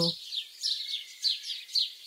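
Young sparrow chicks call in a rapid string of sharp, high chirps, repeated in bursts about every half second. The chirps come loud and close, with a short low thump at the very start.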